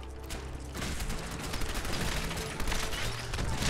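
Rapid gunfire from a firefight against Mire Lurks in the video game Fallout 4, sounding as a dense, continuous clatter of shots and mechanical rattling that stays loud and close throughout, with no talk over it.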